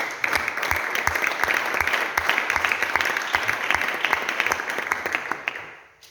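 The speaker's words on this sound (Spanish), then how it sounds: "Dale un fuerte aplauso, por favor." Audience applause after a sermon in a Spanish-language Bible hermeneutics class, a dense steady patter of many hands clapping that holds for several seconds and then fades out at the end.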